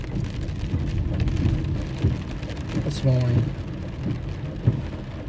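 Heavy summer rain pours down with a dense, steady wash of noise and occasional low rumbles, while a voice speaks briefly over it.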